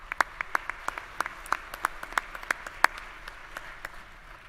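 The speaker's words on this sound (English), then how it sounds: "Another round of applause for them, please." Sparse applause at a spring commencement ceremony after a brass ensemble's national anthem: a modest number of individual hand claps, distinct and rhythmic, fairly close, fading toward the end.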